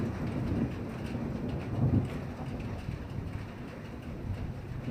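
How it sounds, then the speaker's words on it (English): Steady rain falls outside with a low rumble of thunder swelling briefly partway through, a continuous wash of noise with no voices. "Alright, it's raining."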